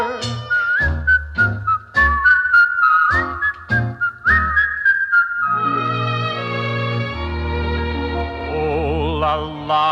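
Melodic whistling from a Disney Three Little Pigs vinyl record (JAO 3252) carries a bright, steady tune over a full band accompaniment, loud and close, with the whistle line continuing alongside the music throughout.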